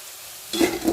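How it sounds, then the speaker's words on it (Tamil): Snack mixture dough dropped into hot oil for deep-frying, starting quiet then breaking into a close, steady sizzle and bubbling for the last half second. "இதில் நம்ம மிக்ஸ் பண்ணியிருக்கத அப்படியே போட்டு இது பொரிச்சிடுங்க"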